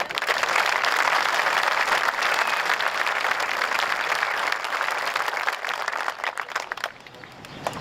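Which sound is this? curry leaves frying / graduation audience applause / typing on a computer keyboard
graduation audience applause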